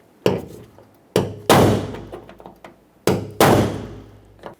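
A hammer strikes a center punch into a door handle rivet on a 1999-2025 Ford E-350 rear passenger door, four hard metallic blows in uneven pairs, close and loud, each ringing briefly. No one speaks.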